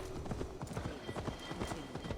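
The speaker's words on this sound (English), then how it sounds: "Oh, we need to ride the horse?" Horse hooves clip-clop at a steady trotting rhythm along a forest path in Assassin's Creed Valhalla, the repeated hoofbeats moderately close under soft ambient background noise.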